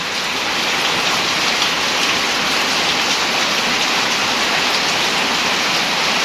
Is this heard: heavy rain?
yes